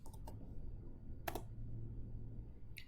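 Quick bursts of typing on a computer keyboard while working in AutoCAD, a few isolated clusters of key clicks separated by quiet pauses over a faint steady hum.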